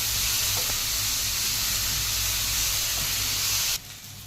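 Soya chunks and spring onions fry for manchurian in a pan, giving a loud, steady sizzle and hiss that cuts off abruptly near the end.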